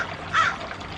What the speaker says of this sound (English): the birds here is crazy.